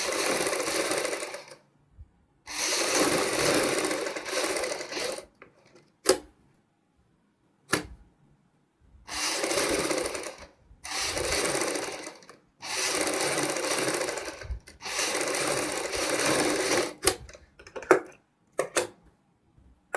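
A sewing machine runs in bursts, stitching piping onto pasted paper for a kurti neckline, each run a few seconds long and separated by silent pauses, with small clicks in between.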